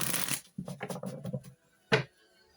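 Tarot cards being shuffled by hand, a quick riffle of papery flutters followed by a single sharp slap of the deck, close and alone.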